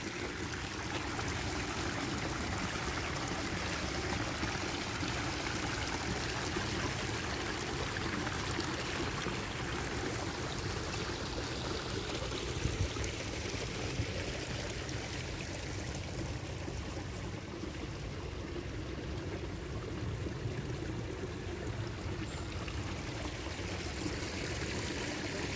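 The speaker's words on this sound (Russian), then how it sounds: "Вот эти камни успокаивают речку, водопад вот этот вот." A small waterfall and stream run over stones in a Japanese garden in Moscow, giving a steady, close rushing and trickling of water that continues evenly with no talking.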